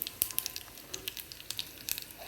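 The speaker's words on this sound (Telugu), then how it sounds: "వేసాక పోపు చేసుకోండి ఒక ఎండుమిర్చి ముక్క కొంచెం ఆవాలు" Faint, crackling pops and spits of mustard seeds and dried red chilli tempering in hot oil, irregular bursts over a quiet background.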